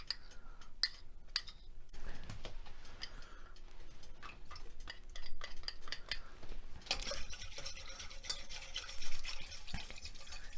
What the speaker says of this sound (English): I'll just add it now and just whisk it in.